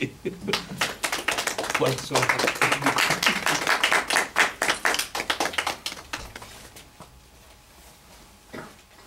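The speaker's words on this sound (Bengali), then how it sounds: "সবাই একটু হাততালি দিন" A crowd claps at a community celebration of Swami Vivekananda's 150th birthday. Dense, uneven hand claps build for about six seconds, then thin out and fade to quiet with a few stray claps.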